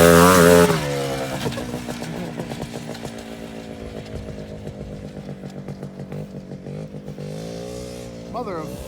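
A quad bike engine revs hard at close range, its buzzing, pulsing roar rising and falling steadily throughout, with a brief shout at the start and a voice near the end.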